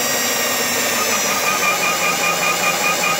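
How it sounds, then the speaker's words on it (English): A drill whirs continuously with a steady, high-pitched grinding hum, close and loud, as a manual valve seat cutter works against metal. "I go ahead and turn on my drill, and I get it a little bit closer and closer so I hear it start to cut."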